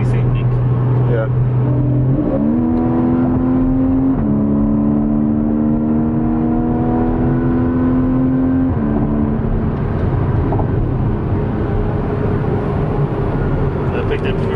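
A Porsche accelerates hard, its engine note climbing in steady steps as it pulls through the gears, loud and close from inside the car, with people talking over it.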